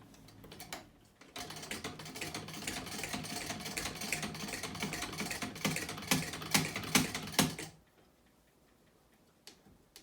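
A vintage sewing machine stitches through hard-wearing heavy fabric in a fast, even run of clicking needle strokes for several seconds. It then stops abruptly, leaving near silence with a couple of faint ticks.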